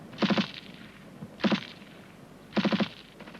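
Covering fire from a rifle group during a military training exercise: three separate bursts of rapid shots, each a tight cluster of three or four sharp reports, spaced about a second apart at moderate distance.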